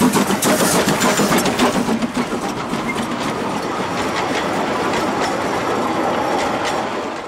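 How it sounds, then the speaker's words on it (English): A steam locomotive pulls a small train on the Gulbene–Alūksne narrow gauge railway. Loud, close rolling and clattering rumble runs throughout, heaviest at the start and then settling into a steady chug with rhythmic clicks. "Time to get on board to travel the next 20 kilometres on this unique little train."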